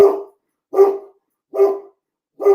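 A pet dog barks four times in an evenly spaced rhythm, each bark sharp and close, separated by brief silences.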